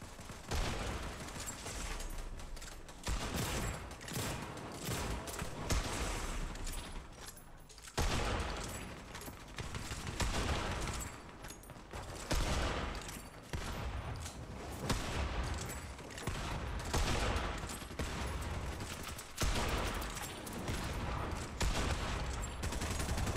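Dense Fortnite gunfire fills a video game battle, with sustained rapid bursts and volleys of shots, loud and continuous throughout, with no clear talk over it.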